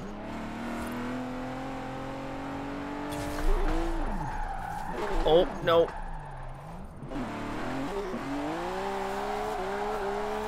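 Chris Forsberg's Nissan 370Z drifts in the video game Forza Horizon 4, with a droning engine that rises and falls in pitch under shifting revs and bursts of tire squeal midway, while a voice briefly exclaims.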